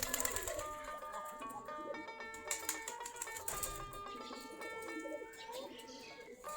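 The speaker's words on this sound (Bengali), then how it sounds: "সবগুলা দেশি গিরিবাজ কবুতর" A flock of local Giribaz pigeons kept in dovecotes, some drinking water and eating wheat, cooing close and steadily in overlapping soft, throaty calls with a few sharper chirps throughout.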